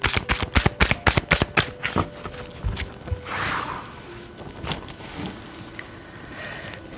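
Tarot cards shuffled in rapid crisp riffling bursts, followed by softer sliding and flicking as single cards are drawn and laid down, close and alone.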